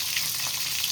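Steady, dense sizzling of galunggong (round scad) fish frying in hot oil, close and continuous with no voices.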